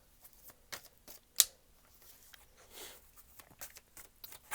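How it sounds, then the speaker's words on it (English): Cards riffle and flutter in quick bursts, with a sharp snap partway through and soft shuffling rustles continuing close by. "so let's shuffle the deck."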